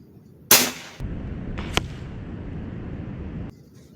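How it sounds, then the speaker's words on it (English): A Kral NP03 .25 caliber air rifle fires a single loud, sharp shot at a 100-yard range, followed by a short crack and a low rumbling tail that lasts a few seconds before fading. "And this is our final shot."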